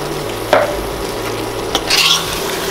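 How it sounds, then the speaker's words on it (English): Canned chickpeas are added to sizzling chicken curry and stirred, with a spoon scraping and clacking against the pan over a steady frying hiss, close and loud. "At this stage I'm adding some chickpeas."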